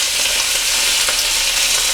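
Bacon frying in a pan for a full English breakfast, a steady close bright sizzle and crackle with no break, nobody talking.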